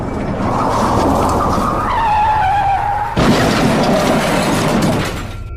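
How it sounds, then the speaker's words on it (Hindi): A cartoon bus skids with a loud, rising tire squeal, then slams hard into a tree in a sudden heavy crash whose noisy rumble carries on for a couple of seconds before fading. "बस का एक पेड़ से जोरदार टक्कर हो जाता है।"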